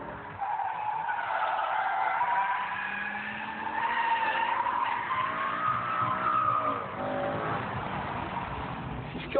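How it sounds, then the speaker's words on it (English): BMW M5 E60 tyres squealing and skidding as the car dives into a corner on a race circuit, a loud sustained wavering screech lasting several seconds with engine note underneath. "Now lift up the throttle as we dive into the corner."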